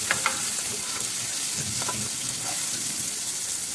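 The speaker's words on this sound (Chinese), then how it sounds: "翻炒。" Ginger pieces, cilantro and scallions stir-fried in hot oil for claypot rice, a steady crackling sizzle with a few scraping stirs of a utensil, no talking.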